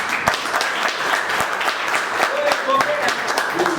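Meeting audience clapping on request, a dense patter of many hands at moderate level, with a voice speaking over it briefly near the end.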